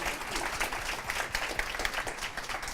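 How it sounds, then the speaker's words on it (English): An audience at a tech sales panel claps for the expert speakers, a dense, steady round of applause heard close by. "a big round of applause for our experts"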